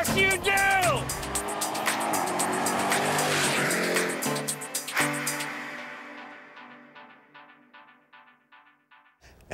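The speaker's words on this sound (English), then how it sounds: "you get this massive Hellcat engine" A massive Hellcat engine roars loudly at a racetrack, with tire squeal and a rising, screaming rev that fades into a series of quieter pulsing bursts as the car speeds away.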